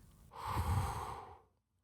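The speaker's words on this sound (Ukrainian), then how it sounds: "Бог вдихнув в людину дихання життя." A single long, soft breath drawn in and let out, like a man breathing for the first time, close and quiet, rising and then fading into silence.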